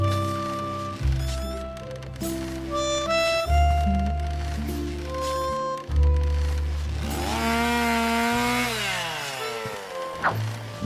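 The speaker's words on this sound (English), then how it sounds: "High-proof alcohol was an excellent fuel substitute for the gasoline chainsaw" A gasoline chainsaw fueled with high-proof alcohol in the Edna and Harvey adventure game revs in repeated bursts, its buzzing engine climbing and dropping in pitch, then a rising whine as it cuts, loud and close.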